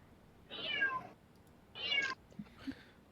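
A cat meows twice, clear and close, with a fainter third call trailing after in an otherwise quiet room; no one talks over it.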